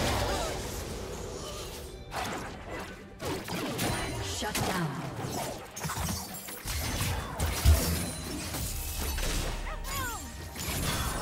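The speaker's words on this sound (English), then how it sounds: "Blue team's turret has been destroyed." A turret being destroyed in a League of Legends mid-lane match, crashing and shattering impacts mixed with whooshes and ability effects at moderate loudness, with a brief spoken announcement in the game.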